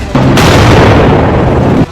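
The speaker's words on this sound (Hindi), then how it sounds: "S-400 कैसे मिसाइल आवाज सुनिए और महसूस करिए उस फोर्स को" A single loud, sustained roaring blast from an S-400 Russian air defense system missile launch, starting abruptly, holding for nearly two seconds, then cutting off.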